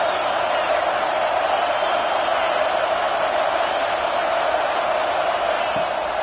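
Steady roar of a large crowd at a college football game in a stadium, a constant, dense wash of noise that stays at one level throughout, distant and without clear individual voices.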